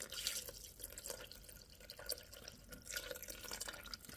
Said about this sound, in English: I'm going to put a little bit of liquid now